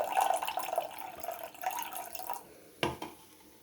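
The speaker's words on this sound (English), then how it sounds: "Alright, so I'm gonna pour this in." Sparkling Prime drink is poured into a glass, a close liquid trickle and splashing stream that fades out, followed by a single sharp clink or tap.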